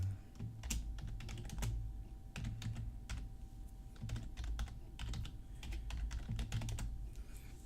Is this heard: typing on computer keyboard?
yes